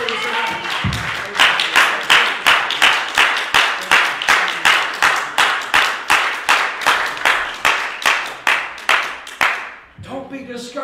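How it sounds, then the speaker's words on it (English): Church congregation clapping hands in a steady, rhythmic unison beat, loud and close, about two claps per second for ten seconds, then breaking off into brief scattered noise and murmuring. "Can we give the Lord a good hand clap?"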